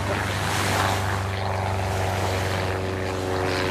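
A propeller aircraft passes overhead of a French scallop-dredging fishing boat in the English Channel. Its dense, steady drone blends with engine hum and sea noise, loud and continuous with no talk.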